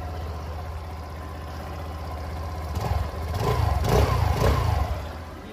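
A Suzuki Avenis scooter engine idles after a cold start with a steady low putter, swelling briefly in a light rev before settling back.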